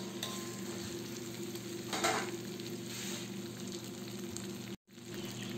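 Fried carrots and potatoes stirred into chicken sizzling in a pan: a steady, close sizzle with a brief scraping stir partway through and a momentary dropout near the end.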